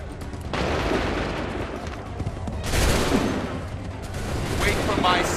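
Musket volley gunfire on the battlefield of the video game Assassin's Creed 3: dense, crackling fusillades of many shots in loud bursts, a sharp swell near the middle and another toward the end, with commands shouted over it.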